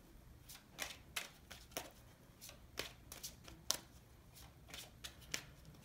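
Tarot cards are shuffled by hand, a faint series of crisp, irregular riffles and taps repeating roughly every half second with no talking.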